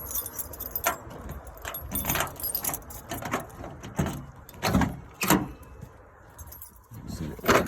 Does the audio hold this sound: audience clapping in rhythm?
no